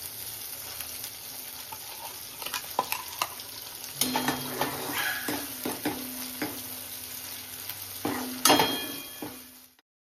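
Black masala sizzling in oil in a kadhai for a Maharashtrian egg curry, a steady fry hiss with spoon stirring and scraping, a few sharp clinks of metal on the pan, growing louder near the end before cutting off.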